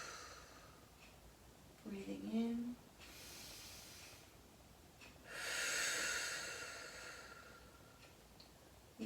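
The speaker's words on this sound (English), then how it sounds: "Breathing in." Slow, deep breaths during a stretching session come as soft airy whooshes, one short inhale followed by a longer, fuller one, faint and close in a quiet room, with a brief voice speaking just before them.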